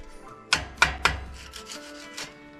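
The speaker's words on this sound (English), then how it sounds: "I'm gonna go along with a block of wood and a chisel because this is styrofoam." A chisel and block of wood working along a styrofoam seal on an insulated concrete form, three sharp knocks followed by softer scraping and crunching, close and fairly quiet.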